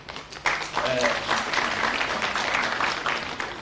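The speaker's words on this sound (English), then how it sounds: "a good round of applause and everybody" A crowd breaks into applause, steady clapping from many hands that keeps going, with some voices underneath.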